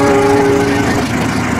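The Lodaya passenger train running on rails, a loud close rumble with a sustained horn-like tone fading after the first second into steady rolling noise.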